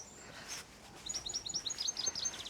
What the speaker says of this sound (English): Oh, goldfinch.